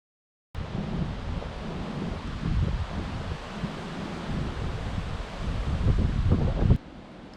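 Strong gusting wind roars steadily outside a house with no one speaking, swelling and easing over several seconds before stopping abruptly.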